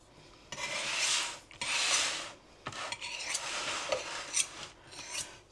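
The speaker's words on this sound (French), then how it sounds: "avec juste un couteau, on va venir hop, vraiment bien en araser les bords." A kitchen knife scrapes along the rim of a tart pastry shell, trimming the dough edges in a few separate rasping strokes of a second or so each, close and moderately loud, with no talking.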